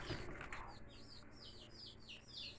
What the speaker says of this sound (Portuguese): Aí os pintinhos ficam piando